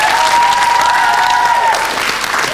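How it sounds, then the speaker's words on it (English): Studio audience applause for a game show contestant, a loud sustained clapping wash over a steady tone that fades out partway through. "Big round of applause for Maria!"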